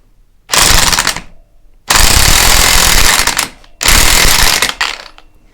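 A power tool with a 29 mm socket tightening a nut during clutch work on an XS2 motorcycle, three loud, close bursts of rapid impact hammering with brief silences between them.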